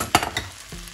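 Shallots drop into a hot pan and start frying for an autumn salad, with a brief close sizzle and a couple of crackling bursts that settle into a soft hiss.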